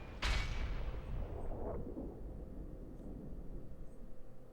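A grenade goes off in The Matrix: Path of Neo, one sharp, loud blast that trails into a long, rumbling decay and fades slowly.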